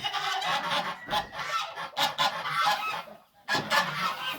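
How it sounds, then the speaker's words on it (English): Geese honk loudly and repeatedly in a noisy, overlapping chorus, with a brief lull before the racket resumes. "the heathen geese behind me there aren't making such a ruckus"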